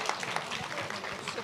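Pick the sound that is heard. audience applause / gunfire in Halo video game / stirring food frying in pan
audience applause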